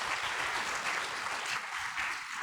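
An audience at a college talk show claps in a full, even round of applause, steady and close throughout the short stretch with no voices over it.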